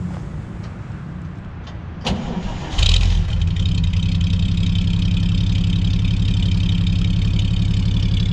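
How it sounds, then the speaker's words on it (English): A restored 1940 Chevrolet pickup cranks briefly, then its engine catches with a sharp burst and settles into a steady, loud, rumbling idle heard close from the exhaust end, continuing evenly to the finish. "truck fires right up, nice and easy."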